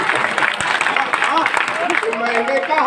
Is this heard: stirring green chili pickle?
no